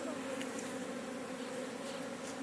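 Honeybees from a caught swarm buzz in a continuous, close drone, a dense steady hum with no talking.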